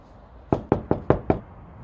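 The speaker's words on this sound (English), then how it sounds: "here's a knocking indeed" Knocking on a door in a staging of Macbeth: five firm, evenly spaced knocks in quick succession, close and clear against a quiet background.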